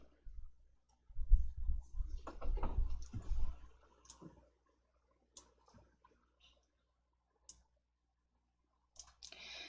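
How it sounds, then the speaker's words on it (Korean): A computer mouse clicks while working in an Excel spreadsheet, a cluster of quiet clicks and handling noise followed by a few sparse, isolated ticks, close and faint. "아래쪽 확인을 클릭."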